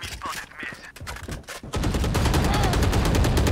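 Gunfire in the Valorant video game: a string of separate sharp shots first, then a dense, continuous burst of rapid fire, loud and close.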